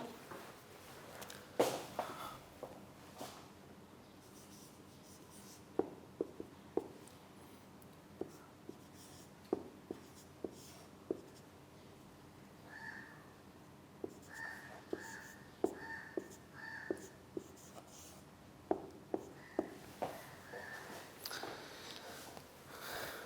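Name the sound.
writing on a board during a lecture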